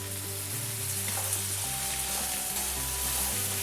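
Vegetable fried rice with salt and masala sizzling steadily in a covered pan, a constant close frying hiss with a low hum running beneath it.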